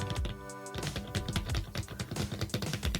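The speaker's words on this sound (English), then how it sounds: "That's how loud Tristan types." Loud, rapid typing on a computer keyboard, a busy stream of clicking keystrokes close by, running steadily without pause and with no talking.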